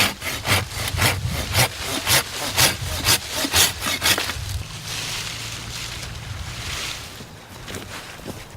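Hand saw cutting through a tree branch during pruning, rapid rhythmic back-and-forth strokes for about four seconds, then stopping, leaving a quieter outdoor background with a faint low hum.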